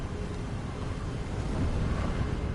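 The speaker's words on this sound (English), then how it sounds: "Ooh, windy up here." Wind in the video game Hogwarts Legacy blows steadily and loudly in a high outdoor spot, a broad rushing noise that swells slightly toward the end.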